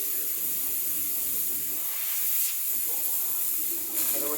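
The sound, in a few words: Breville Barista Express BES870 steam wand hissing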